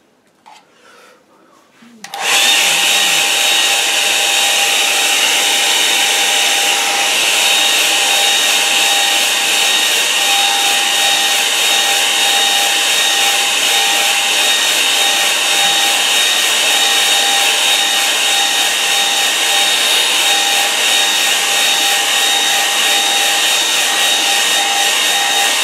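A hair dryer blows steadily and loudly over a wet-in-wet watercolour painting, switching on after a brief quiet moment and then running as a continuous whirring roar with a faint whine, with no talking.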